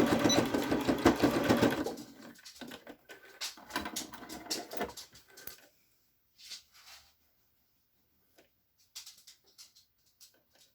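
A sewing machine stitching a DIY pocket mask, a fast rattling run for about two seconds, then shorter slower bursts of stitching and a few isolated taps with quiet gaps.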